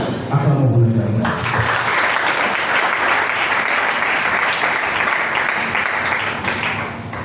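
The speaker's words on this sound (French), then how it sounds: "Acclamons pour l'Éternel." Church congregation at a Sunday worship service breaking into sustained, loud applause that fills the room for several seconds after a brief spoken opening.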